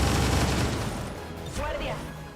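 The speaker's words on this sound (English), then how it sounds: "So I guess the next thing you can do is just suppress this guy. Pressing fire on target." Suppressive gunfire in XCOM 2, a burst of heavy shots up front that fades into a lower rumble and scattered mechanical noise, with a voice speaking over part of it.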